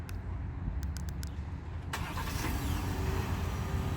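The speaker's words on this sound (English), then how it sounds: "So the truck's been remote started there." A 2020 Ford F150 Lariat SuperCrew pickup starts by remote, and its engine catches about halfway through with a loud broadband surge, then settles into a steady, close-by rumble.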